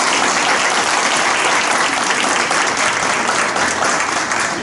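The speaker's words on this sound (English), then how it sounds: "Let's give these candidates a round of applause." Applause from an audience at a school board candidates' political forum held in a school cafeteria, steady and sustained clapping throughout, fairly close and loud.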